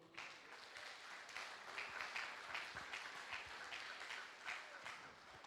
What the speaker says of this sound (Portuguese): aí pode dar uma salva de palmas para o Senhor